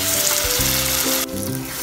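Dhaba-style baigan bharta (mashed roasted eggplant) sizzling steadily as it fries in a pan, a loud, close crackle that dips slightly after a brief stir.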